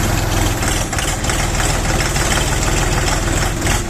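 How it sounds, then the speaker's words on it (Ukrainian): A small Kentavr 24 hp three-cylinder mini tractor engine on wide tires idles close by with a steady, rumbling, slightly knocking chug that holds throughout. "Трьохциліндровий трактор на широкій різині"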